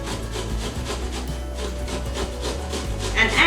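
Fresh ginger rubbed against a grater, a close rhythmic raspy scraping in repeated strokes, moderately loud and without speech.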